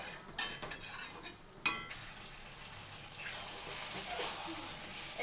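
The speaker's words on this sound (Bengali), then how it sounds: "এটা একটু নাড়িয়ে দেবো" Mutton curry is stirred in a pan, with a few sharp spoon clinks and scrapes at the start, then a continuous soft sizzling hiss.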